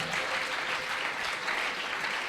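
A church congregation at a sermon applauds and acclaims the Lord in a dense, sustained wave of clapping and cheering that stays loud and even throughout.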